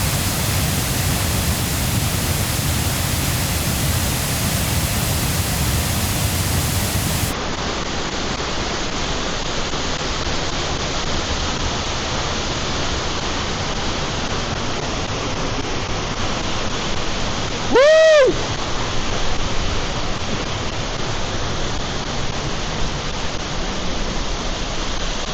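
Heavily flowing waterfall in the Brecon Beacons, a loud, dense and constant roar of falling water close by, unbroken throughout with one brief tonal chirp partway through.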